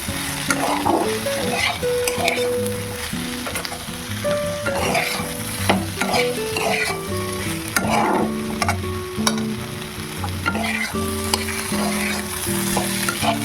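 Mixed vegetables frying in a pan with ginger and cumin powder, a steady loud sizzle under repeated scraping stirs and clinks of a spatula throughout, with no talking.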